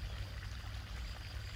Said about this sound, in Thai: มีเสียงน้ำไหลค่ะ